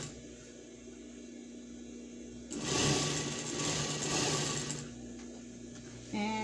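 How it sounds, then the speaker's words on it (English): Sewing machine running a straight stitch on fabric scraps for a pet bed, a steady close mechanical whir lasting about two seconds amid quiet room tone. "Straight stitch, no folding the fabric, no nothing. Just go and do the stitch."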